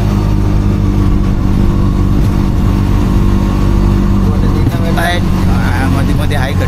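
An auto-rickshaw engine strains up an uphill road in a steady, loud, close drone that barely changes pitch, with a short voice heard near the end.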